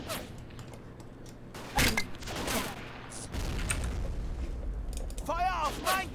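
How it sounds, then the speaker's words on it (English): Gunfire in the game Battle of Empires, with bursts of musket and rifle volleys alongside scattered shots and mechanical noise, and a voice talking over parts of it. "Oh, they are shooting at us."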